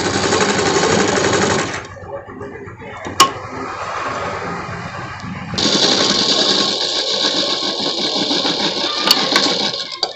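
Electric sewing machine stitching the sleeves onto a collared night suit, running in steady fast bursts with a short pause and restart, close and loud over a continuous mechanical whir.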